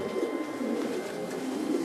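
A racing pigeon from a breeding loft coos softly and continuously in a low, breathy murmur, close by with no talk over it.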